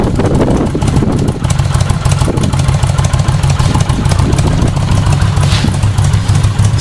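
A Kawasaki VN 800 motorcycle engine runs close and loud with a steady throbbing rumble, holding a fairly even pace throughout.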